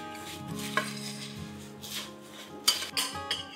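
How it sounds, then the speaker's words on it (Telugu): Cucumber boat breakfast ingredients stirred together in a bowl, with a soft, steady scraping and tapping of a utensil, a sharper clink early on, and a few louder knocks toward the end, close by. "I'm mixing everything all together."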